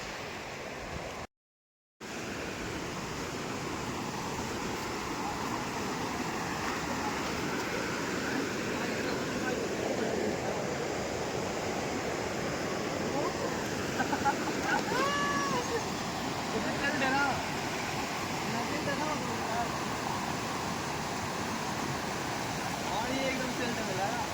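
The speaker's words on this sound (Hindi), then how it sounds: "नीचे आ गए भाई झरने पे" A steady, full rushing roar of a waterfall near Nainital fills the scene without letup, broken only by a brief cutout near the start.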